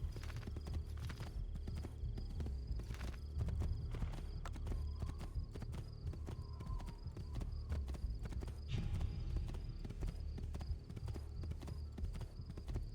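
In the video game Assassin's Creed II Remastered, horse hooves clip-clop in a steady rhythm as the horse travels out from a town, with an occasional whinny over a constant background bed.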